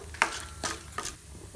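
Urad dal and chana dal frying in oil in a pan, heard as a few brief stirring scrapes and soft sizzling bursts, close and fairly quiet, with no voices.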